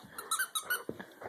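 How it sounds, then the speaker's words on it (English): A dog's squeaky toy squeaks repeatedly in quick, uneven bursts, loud and close, with a few short gaps between squeezes. "Oh, now you want to play with the squeaky?"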